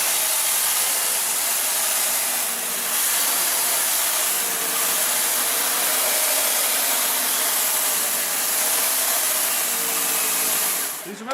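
The power head of a Lindhaus HealthCare Pro HEPA vacuum runs without suction, giving a steady, close, airy whirring hiss that holds evenly for about eleven seconds before a brief rattle at the end.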